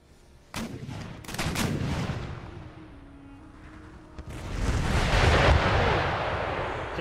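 21-pounder cannons firing in Empire Total War, a sharp blast followed by a rolling rumble, then a second heavier, sustained roar of booming fire.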